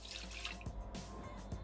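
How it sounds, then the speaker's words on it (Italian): Water is poured into a Thermomix (Bimby) mixing bowl at the start of a herb bread dough, a continuous hissing, splashing stream heard up close with no talk. "Iniziamo la ricetta mettendo all'interno del boccale l'acqua"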